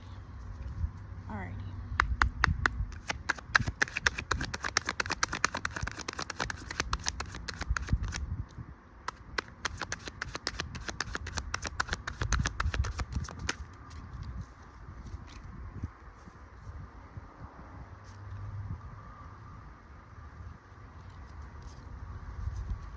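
Rapid crisp riffling of tarot cards repeats in bursts, close by, then gives way to softer handling noise and quiet background.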